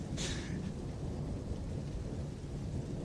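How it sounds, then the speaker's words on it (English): A deep thunder rumble from a storm strong enough to shake a house, rolling low and steady under steady rain, with a brief hiss of drops at the start and no talking. "the noise of thunder"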